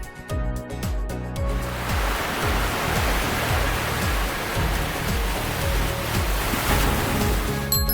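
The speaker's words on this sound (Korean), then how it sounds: "파도 소리" Recorded ocean surf used as white noise: a broad, steady wash of waves rising in after a quieter opening, with a faint rhythmic low pattern beneath and no speech.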